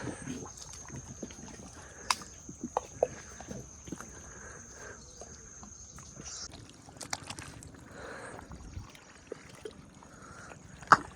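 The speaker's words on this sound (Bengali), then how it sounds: "চলতে শুরু করে দিল আমাদের নৌকা" A rowboat moves on quiet water: soft lapping and trickling with scattered wooden knocks and clicks, fairly faint and unhurried.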